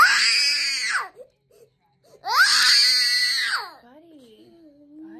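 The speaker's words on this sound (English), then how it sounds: "Why are you screaming?" A young boy in a hospital screams and cries in two long, loud, wailing bursts separated by a short pause, followed by quieter whimpering sobs, close to the listener.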